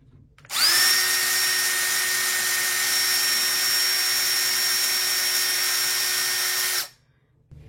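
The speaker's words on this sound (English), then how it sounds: "Once you've got your hole drilled, go ahead then take your screw." A power drill bores a pilot hole, revving up sharply into a loud, steady whine that holds for about six seconds before cutting off cleanly, close and with no talk.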